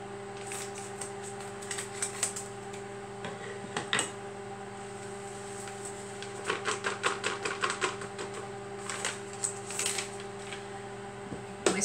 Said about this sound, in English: whisk that until it's nice and smooth